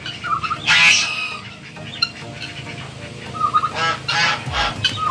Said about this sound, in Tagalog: Oh, ayan oh, yung gansa, tingnan mo,